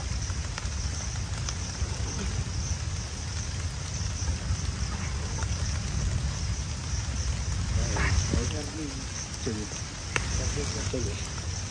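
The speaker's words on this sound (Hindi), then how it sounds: "बारिश हो रही है, तेज हो रही है" Heavy rain pours outdoors in a steady, dense hiss that fills the whole scene, with faint voices and a few small knocks underneath.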